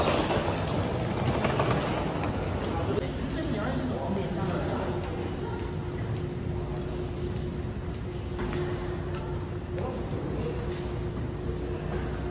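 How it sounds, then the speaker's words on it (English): A Korean subway train running on the Seoul line, a continuous rumbling roar with a steady mechanical hum and rattling, heard from inside the carriage at a constant loud level with faint chatter beneath. "Korean subway."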